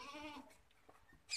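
A Barbari goat gives a single short, quavering bleat, faint and close, followed by quiet rustling and a sharp noise at the end.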